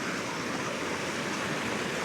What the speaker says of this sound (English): flow of water coming down the mountainside